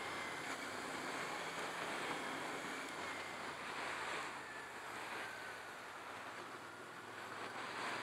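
Steady, loud wind buffeting a microphone while riding a 2023 CFMoto 450SS sport motorcycle at Laguna Seca, a broadband roar that fills the whole stretch with no pauses.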